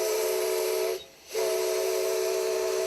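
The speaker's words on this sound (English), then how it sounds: "The steam engine is a restored 1916 Vulcan Prairie type engine" Steam whistle of a restored 1916 Vulcan Prairie type steam locomotive, the Lumberjack train, sounding two long loud sustained blasts with a short gap between them, the tone edged by steam hiss.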